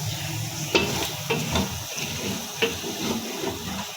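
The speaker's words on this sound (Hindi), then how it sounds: "यहाँ पे आप देख सकते हैं दही डाल के हमने अच्छे से एक बार मिक्स कर लेना है" Yogurt is stirred by hand into aloo gosht cooking in a pot, with wet scraping strokes and a few sharp spoon knocks against the rim over a steady low sizzle, no talking.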